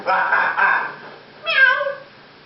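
A person imitates a cat, giving two drawn-out meows in a row, close and clear.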